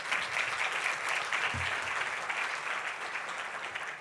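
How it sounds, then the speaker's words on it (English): Conference audience at a public health violence prevention general session gives a sustained, even round of applause that carries through without speech. "Let's give them a round of applause as well."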